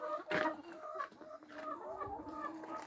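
Free-range chickens cluck on a farm, a close, busy chorus of overlapping clucks and short calls with one louder squawk near the start.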